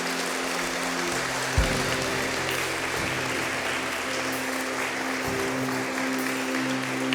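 A church congregation claps steadily and evenly for several seconds, a dense, rain-like patter with a low sustained tone beneath it.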